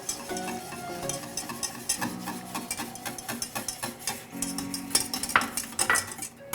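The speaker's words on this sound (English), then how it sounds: "Once we get the sauce up to a simmer, you can see it's simmering now, we're going to add the slurry, the arrowroot slurry" A utensil stirs arrowroot slurry into simmering teriyaki sauce in a pan, making close, repeated scraping and swishing strokes over a soft bubbling sizzle, with no talking.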